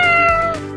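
A cat gives one short, loud, close meow that tails off quickly, with nothing else heard around it.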